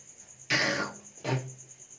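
Two harsh, throaty hawking bursts, as if someone is clearing phlegm from the throat, separated by a short pause.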